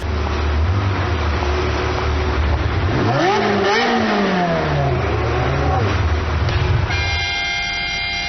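A car engine in the video game Cuisine Royale revs hard while stuck in a ditch, pitch sweeping up and falling in strained surges, with players talking over it and a tonal game sound near the end.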